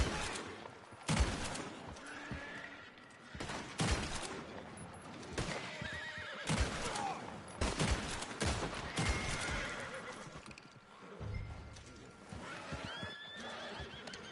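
Horses in the video game Red Dead Online let out repeated loud neighs and whinnies, with clip-clopping hooves and scattered bursts of gunfire in the background.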